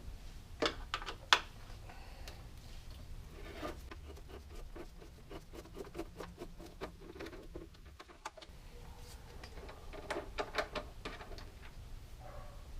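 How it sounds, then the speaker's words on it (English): A 5mm T-handle Allen key loosens the front fender bolts on a Honda Goldwing DCT Tour, giving quiet, close ticking and scraping clicks in scattered bursts with short pauses between them. "I will be using a 5mm T-handle Allen to take out the bolts to remove the fender"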